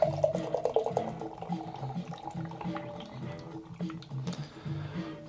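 Beer glugging from a can into a goblet, a steady close liquid pour with bubbly trickling and splashing throughout.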